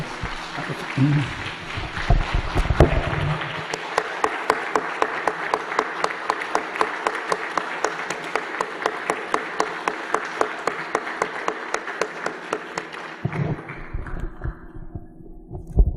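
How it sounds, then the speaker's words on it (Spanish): Sustained applause from a crowd, dense clapping that swells and holds steady for several seconds before thinning out near the end. "Un cariñoso aplauso para nuestro Divino Maestro."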